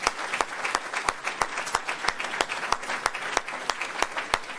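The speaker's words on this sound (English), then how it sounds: "Let's give them a warm round of applause" A round of applause rises from an audience at a gathering where Louis Farrakhan is being heard, with sharp individual claps standing out in a steady, fairly even rhythm throughout.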